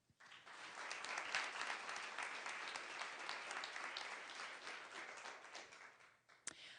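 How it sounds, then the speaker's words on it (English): Audience applause at an evening charity art auction fundraiser, a dense, even wash of many hands clapping together, sustained and fairly distant, tapering slightly near the end. "Please give them a round of applause."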